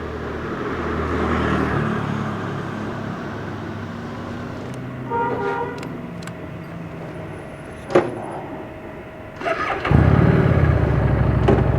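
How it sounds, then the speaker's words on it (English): A Harley-Davidson Street 750 motorcycle engine nearby cranks with a few brief clicks, then catches and settles into a loud, low, rumbling idle, with no talking. "So today I'm riding a Harley Davidson 750 Street 750."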